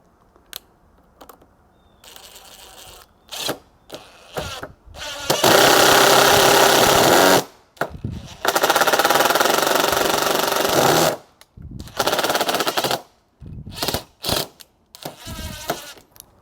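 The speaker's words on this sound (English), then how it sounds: "the impact driver also has 3 speed settings" A DeWALT brushless impact driver on its highest speed setting rattles in loud, rapid hammering bursts while driving a screw without pre-drilling, two long runs of several seconds each, separated and followed by short clicks and brief stutters.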